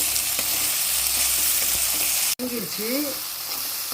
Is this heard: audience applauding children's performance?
no